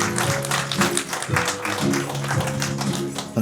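An audience applauds as three suspects come to the side of the stage at a fringe murder-mystery show, a dense patter of clapping that stays loud throughout.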